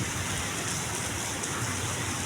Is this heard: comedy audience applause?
no